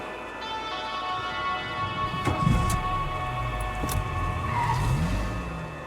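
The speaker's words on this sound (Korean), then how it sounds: "검은색 차량 한 대가 난폭하게 후진하며 주차장으로 들어오더니 변압기를 들이받고는 그대로 달아납니다" A black car in the video game Rue Valley reverses violently into a parking lot and slams into a transformer: engine roar with tire scrub, a sharp impact, then a tonal electrical hum and faint screeching.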